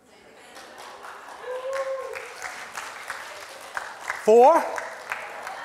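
A church congregation clapping during a sermon, scattered light applause rising under the preacher's voice, with a brief sharp vocal outburst near the end.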